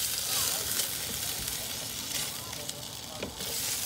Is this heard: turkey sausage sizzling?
yes